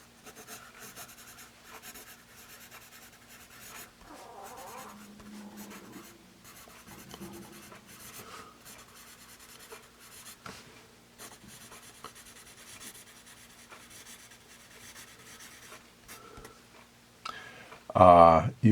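Pencil writing with a Dixon Ticonderoga Laddie 2HB pencil on paper: a soft, steady scratching and rubbing across most of the stretch, fairly quiet and close, with light ticks of the point and a louder burst of handling noise near the end.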